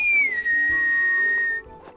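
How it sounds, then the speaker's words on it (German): A cartoon character whistles a long, clear held note that dips slightly near the start, with faint background sound underneath. "Und man kann zur Begrüßung pfeifen."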